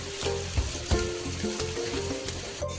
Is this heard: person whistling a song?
no